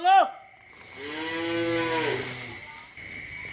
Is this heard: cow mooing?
yes